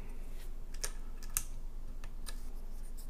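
Keystrokes on a Ducky One 2 Mini compact mechanical keyboard with pink keycaps, a few sharp clicks standing out against a steady low hiss, sparse and irregular rather than a fast typing run.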